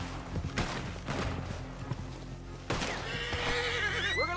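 A loud horse neigh rings out near the end in Red Dead Redemption, preceded by hoof clatter and scattered thumps over a low game soundtrack.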